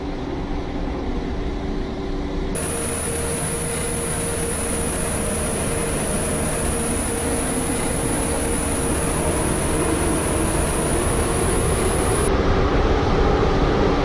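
A train running in a Roblox railway game gives a steady, loud rumble throughout, with a high whine that sets in after a couple of seconds and holds until near the end, with no voices.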